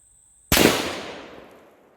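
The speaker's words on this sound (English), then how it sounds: "Let's do some shooting." A single loud shot from a Daniel Defense DD5 V3 .308 semi-automatic rifle cracks sharply, then a long echo trails away over about a second and a half in an otherwise quiet outdoor setting.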